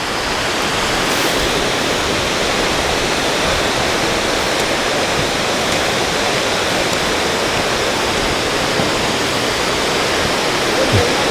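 Bridal Veil Falls near Vancouver roars as a loud, steady, close wash of falling water that fills the whole clip with no break.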